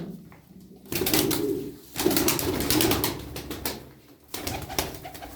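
Tumbler pigeons move about and flap their wings in bursts of loud, close fluttering, separated by brief pauses with soft cooing and rustling.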